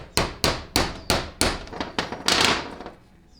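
Sharp metallic hammer blows drive a drift to seat a Sonnax servo part in a 4L60E transmission, about nine quick close strikes in an uneven rhythm that ends in a brief flurry, then quiet.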